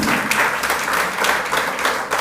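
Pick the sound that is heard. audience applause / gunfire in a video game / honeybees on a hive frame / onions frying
audience applause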